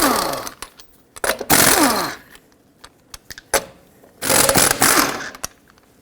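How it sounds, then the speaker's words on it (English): A power tool with a 19mm socket spins off the lug nuts on a rear wheel of a Dodge Grand Caravan, giving loud bursts of whirring and rattling with short clicks and quiet gaps between them. "With a 19mm socket, remove all 5 of your lug nuts and then remove the wheel."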